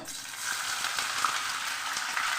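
Sliced onions frying in a pan of oil, a continuous soft sizzle with light crackles and occasional stirring clicks, fairly quiet and steady with no voices.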